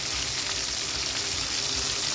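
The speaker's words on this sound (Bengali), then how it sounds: "আমার চিকেন ফ্রাই ভাজা প্রায় কমপ্লিট।" Chicken pieces frying in hot oil, a loud, steady, dense sizzle that continues without a break.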